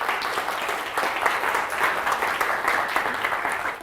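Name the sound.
audience applause in lecture hall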